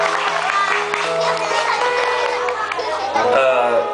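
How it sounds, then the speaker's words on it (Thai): A crowd applauds for a teacher at a birthday gathering, with voices, chatter and children's speech mixed in; the clapping runs continuously under the talk and swells slightly near the end. "ผมขอเสียงปรบมือให้อาจารย์ด้วยครับ"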